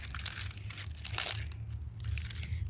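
Dry brown garden plants being cut back for winter, with a steady, close crunching and crinkling of stems and foliage running throughout, no voices.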